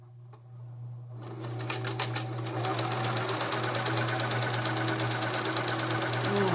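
A New Home SS-2015 sewing machine starts after about a second and runs steadily at high speed, a fast, even mechanical clatter over a constant low motor hum, close and fairly loud with no talking.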